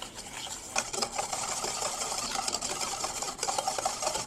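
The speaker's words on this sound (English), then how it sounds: "So now I'm gonna whisk this together." Sugar and cinnamon whisked together in a bowl for a festive treat, a quick, steady scraping and rattling of the whisk that carries on close by throughout, with no speech.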